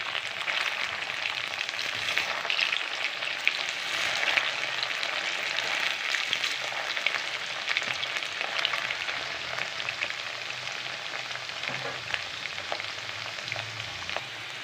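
Snake gourd (pudalangai) chilli pieces frying in a pan of oil, a dense, continuous crackling sizzle that stays loud and even throughout, close up with no talk.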